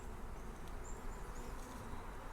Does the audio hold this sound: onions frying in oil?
no